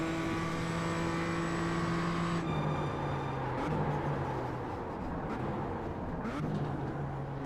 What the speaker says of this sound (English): I hear the exhaust.